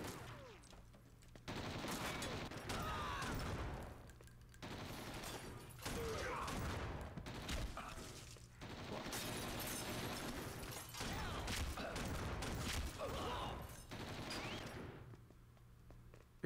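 Bursts of rifle fire from an M14-like gun in Red Steel come in long sustained volleys with short pauses between, loud and close, under a player's occasional talk.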